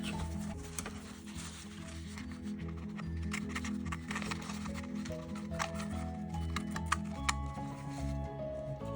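Scissors snipping through a paper craft template taped down with masking tape, a steady run of small crisp cuts close by, over a faint background hum.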